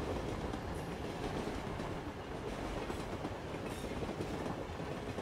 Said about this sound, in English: You can hear the tracks more prominently on this segment of the journey, the pleasant sound drowning out any other.